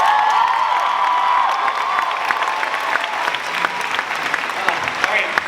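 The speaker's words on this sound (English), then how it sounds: "let's have a round of applause for this incredible group." A Comic Con crowd applauds a TV fan-favorites panel, loud sustained clapping with scattered cheers and whoops spread through a large hall, holding strong for several seconds.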